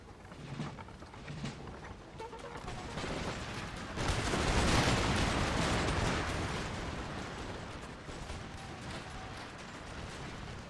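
Musket volleys from infantry regiments firing at will against cavalry in the strategy game Empire: Total War, heard as a dense, continuous crackle of distant overlapping shots that swells midway, with no speech.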